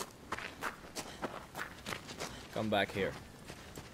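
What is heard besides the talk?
horse hooves in Shadow of the Colossus video game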